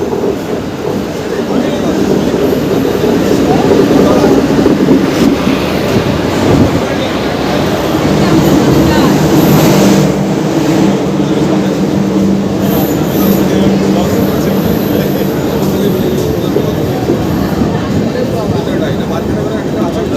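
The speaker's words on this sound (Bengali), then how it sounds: "তো চলো ট্রেন আসুক" An LHB-coached Aranyak Express passenger train pulls into a station: a steady, loud rolling rumble with clattering wheels runs throughout, with voices and crowd noise on the platform mixed in.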